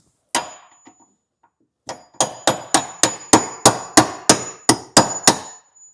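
A steel hammer strikes a metal drift in a mechanic's workshop: two early blows, a pause, then about ten loud, ringing strikes in a fast, even rhythm, each with a short metallic decay.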